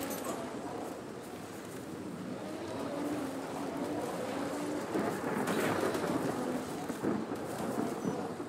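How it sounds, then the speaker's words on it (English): Thunder rumbles through a snowy landscape in the video game Ark, a long low rolling roar that swells and fades, with steady rain hiss and occasional faint bird calls. "It is thundering."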